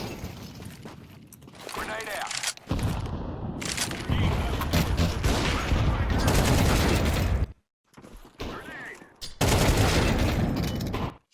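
Gunfire in a first-person shooter match, with dense bursts of rapid shots and impacts in several loud stretches separated by brief pauses, while voices talk over it.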